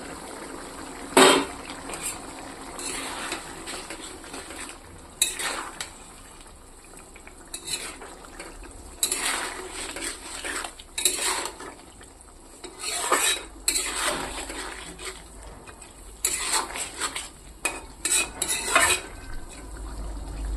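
Tengra fish and potato curry simmers in a pan while a spoon stirs and scrapes against the metal in scattered bursts, with a low bubbling underneath and no talking.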